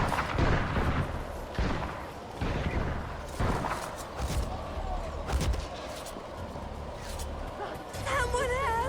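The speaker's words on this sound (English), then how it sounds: "They're shooting at me?" Gunfire in Assassin's Creed Revelations, a run of loud booming shots and crackling volleys in busy battle ambience, with a voice and a sliding whistle-like tone near the end.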